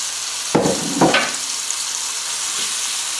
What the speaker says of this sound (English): we bring the oil up to temperature, and we're going to be frying these off in 2 batches